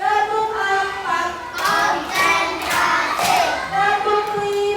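First-grade children clap together in a classroom, a few sharp grouped claps in rhythm heard over a teacher's sustained speaking voice.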